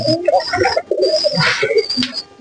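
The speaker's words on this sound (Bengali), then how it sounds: "এখানে এক জোড়া ধাড়ি আছে ডাল্লি কবুতর" Pigeons coo in soft, repeated throaty calls, close by, with a few overlapping coos and faint background rustle.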